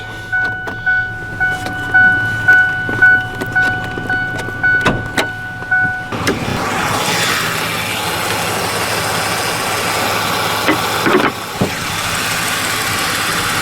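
The 3.8-liter engine of a 1998 Ford Windstar GL minivan idles smoothly nearby, a low continuous hum, with clicks and clunks early on and then a broader rushing drone.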